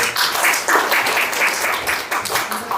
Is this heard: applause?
yes